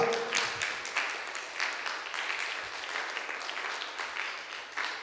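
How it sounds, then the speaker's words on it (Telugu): A church congregation claps and applauds together after being urged to give loud applause for people holding up their Bibles; dense, steady clapping fills the room with a few louder bursts. "వాళ్ళకి చప్పట్లు కొట్టండి గట్టిగా"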